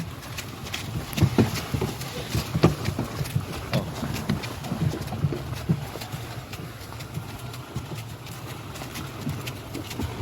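A draft horse mare's hooves clop unevenly on a hard surface as she walks, a steady irregular rhythm of moderate loudness with faint background ambience.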